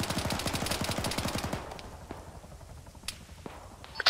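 Gunfire in the military shooter Arma with a ShackTac group in a village: a rapid close burst of automatic fire, then scattered single shots and distant cracks, with no talking.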